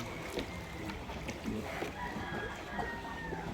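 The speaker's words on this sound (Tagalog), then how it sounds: "Ang daming manok." Chickens and a rooster around a rural home in Vietnam, heard as faint, scattered crowing and clucking over a steady outdoor background.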